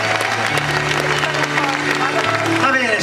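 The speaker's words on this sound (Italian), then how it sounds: "ecco, un applauso." Audience applause fills a pub after a concert, a dense, steady wash of clapping that runs the whole time, with crowd noise and some voices mixed in beneath it.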